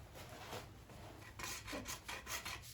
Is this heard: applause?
no